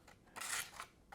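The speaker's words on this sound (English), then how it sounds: "Let's see how we cut paper." A small carabiner knife slicing through paper: a short, close crisp swish with a brief rasp at the end, alone with no talk.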